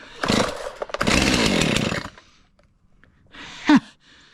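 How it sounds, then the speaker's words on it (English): A Stihl Farm Boss chainsaw on a cold start: two rough pull-cord bursts of engine sputter close by, then a pause and a shorter final pull that catches briefly without running on. "My Farm Boss saw that I bought at my local dealer at the dealership. Anyway, let's see how he fires up."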